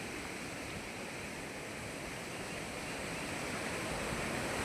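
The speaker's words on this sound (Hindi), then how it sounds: "देखो यहाँ पर ये पानी बहता हुआ, ये नदी बहती हुई" A swollen, fast-flowing river in Uttarakhand rushes loudly and steadily, a dense, unbroken roar of water close by with no other sounds on top.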